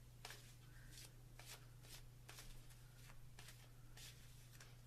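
Angel cards riffled and shuffled by hand in repeated short bursts, each crisp flutter close and fairly quiet, over a steady low electrical hum.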